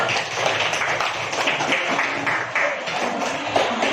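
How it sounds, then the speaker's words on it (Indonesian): A classroom of students applauds a presenting group, steady dense clapping close by and continuing throughout with a slight murmur underneath. "Beri tepuk tangan kepada kelompok 1"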